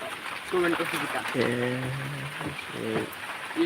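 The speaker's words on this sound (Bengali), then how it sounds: "বৃষ্টিটা বৃষ্টি বেশি প্রচুর বৃষ্টি পরিমাণ প্রচুর বৃষ্টি" Steady roar of heavy rain pouring close by, continuous and fairly loud, while someone talks over it in short bursts.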